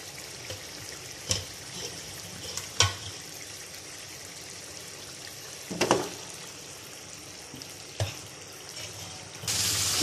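Beef frying with nihari masala in a pot, a low steady sizzle with several sharp clatters of stirring and a brighter hiss near the end, no voices.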